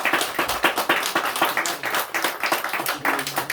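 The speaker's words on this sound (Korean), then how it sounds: "우리 찬양대 격려 박수 한번 드리겠습니다" A church congregation at a Sunday afternoon service claps in encouragement for the choir, a short, fairly soft patter of many hands that sounds a little distant in the worship hall.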